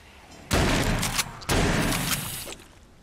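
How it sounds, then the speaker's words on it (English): Loud bursts of gunfire in the video game Saints and Sinners Aftershock, two heavy volleys about a second apart, each booming onset trailing into a rattling decay. "I can hear gunfire."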